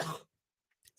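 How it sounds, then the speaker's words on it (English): A single short, husky cough from a person, close and loud, followed by a faint throat-clearing sound and then near silence. "I'm about to start coughing again"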